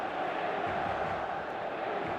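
A large stadium crowd of supporters in eFootball PES gives off a steady, dense roar of massed voices and chanting. The sound is loud and continuous, with no single voice standing out.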